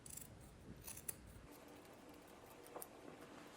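Fabric scissors trim the seam allowance on a small sewn fabric tea bag pouch, giving a few quiet, crisp snips spread apart against a faint, hushed background.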